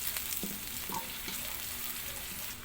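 Sliced onion frying in hot oil in a pan for pinakbet, a steady close sizzle with a few soft clicks of a utensil, no talking.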